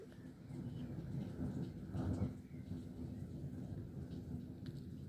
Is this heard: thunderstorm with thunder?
yes